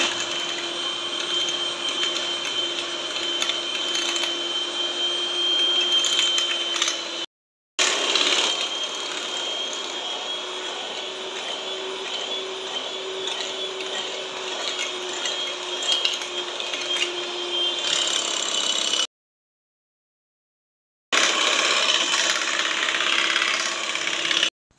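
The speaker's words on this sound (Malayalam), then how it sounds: "ഇനി ഞാനിവിടെ 4 മുട്ട ഇവിടെ ബീറ്റ് ചെയ്തെടുക്കുന്നുണ്ട്." An electric beater whisking four eggs until frothy for a cake, a continuous motor whine with a steady pitch that cuts out twice in brief pauses, close and loud, with no talking.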